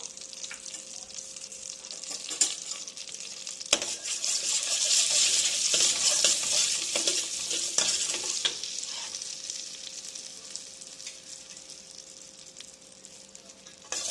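Mustard seeds and cumin frying in hot oil in a pan, a steady close sizzle with faint crackles and occasional utensil taps, swelling midway and easing off, with no voices.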